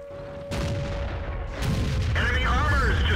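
An SU-152 tank gun in a tank battle game fires with heavy booming blasts, two or three loud shots in quick succession, followed by a rumbling, rising engine roar, with a commentator talking over it.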